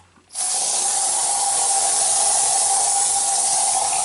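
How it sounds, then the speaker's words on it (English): An aerosol can sprays hard at a Scott GSR gas mask, a loud steady hiss that starts abruptly after a brief pause and runs on unbroken. "Down here as usual, we've got the aerosol. We're going to spray a lot of it."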